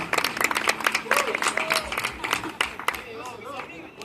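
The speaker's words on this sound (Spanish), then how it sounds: "Aplausos, ¿verdad?" Applause from a rock concert audience in a neighborhood setting, a burst of scattered clapping and cheers that thins out as voices talk over it.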